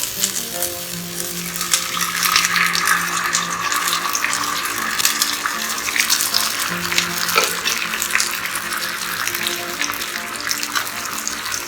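Jaggery water poured into a pan of bananas and leftover ghee, giving a steady broadband splashing hiss with faint sizzling throughout, no talk.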